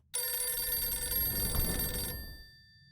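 An old-style telephone bell rings in Dracula 5, a single sustained ring lasting about two seconds, close and bright with a loud metallic tone, then cutting off into a short fading decay.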